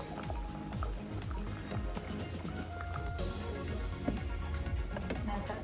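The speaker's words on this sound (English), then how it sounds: "And the water is boiling" A pot of water boils on a stove for sterilizing bottles, giving a continuous bubbling, gurgling churn with small pops and sloshes, fairly close and steady throughout.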